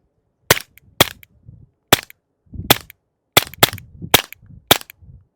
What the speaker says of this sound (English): 22 caliber suppressed out of a handgun